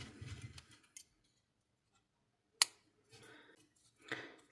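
A single sharp snip of scissors cutting crochet yarn, loud and isolated against near silence, with faint handling rustles before and after.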